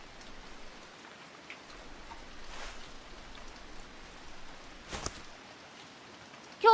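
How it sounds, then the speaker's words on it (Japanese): Steady rain falling in a short MMD animation, a soft continuous hiss of drops with a few louder splashes near the end, heard alone without voices. "やだよ、雨降ってんじゃん。"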